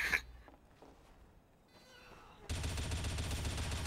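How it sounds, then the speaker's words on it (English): Suppressed gunfire in the video game Team Fortress 2, a burst of steady rapid shots starting abruptly and continuing loud and dense to the end, after a short quiet stretch with faint game sounds. "I have a suppressor and I'm not afraid to abuse it"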